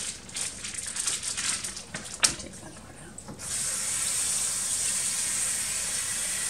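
Tap water runs steadily over raw chicken being rinsed clean in a kitchen sink, with clattering handling noises at first before a smooth, continuous stream takes over, close and fairly loud.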